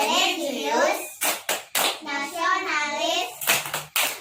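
Children chant in unison and clap hands in rhythm during a classroom PPK clapping routine, with sharp clap bursts breaking between stretches of loud group chanting, close by.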